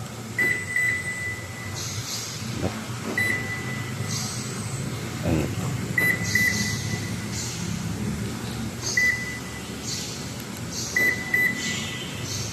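The remote lock answer-back buzzer on a Toyota Conquest chirps in short high beeps, sometimes single and sometimes in quick pairs, repeating several times over a low background hum.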